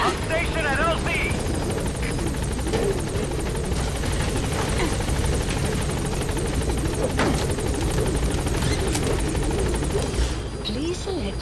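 In Metal Gear Solid V: The Phantom Pain, a helicopter arrives at a landing zone with a loud, continuous rotor thump and engine drone, a radio voice speaking over it.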